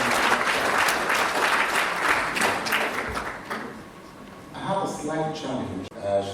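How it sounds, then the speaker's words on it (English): Loud, sustained applause from an audience at a national school quiz competition final in Abuja fills the hall, thinning toward the end as a voice begins speaking over the fading claps. "Let's give all of them a resounding applause"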